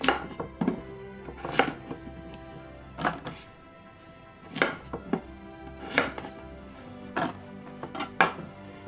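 Knife chopping vegetables on a cutting board, a series of crisp separate thunks at irregular intervals, close and clear with no talking.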